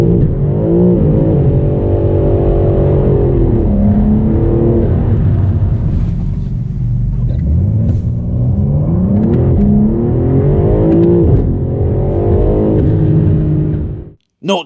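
A BMW M4 CS launching from 0 to 60 on an extremely wet road on the wrong tyres: loud engine revving that climbs through several gear changes with rising and falling tones, close and continuous until it cuts off at the end.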